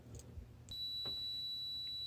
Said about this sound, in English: The sound you're now hearing, that constant beep, is caused by one of two things.